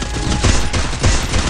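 Rapid automatic gunfire in a video game match, loud and close, with bursts of repeated shots rattling continuously through the short stretch and no speech over it.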